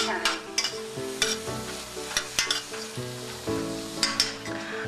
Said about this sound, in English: Now I'm going to give my onions and mushrooms a stir.